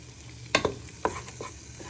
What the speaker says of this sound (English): Just using the back of the wooden spoon to break any of the big pieces if not stuck together.